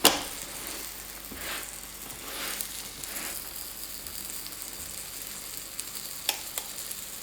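A thin-skinned meat pie sizzles softly in a pan after being flipped, giving a steady, fairly quiet frying hiss with a few faint crackles and pops.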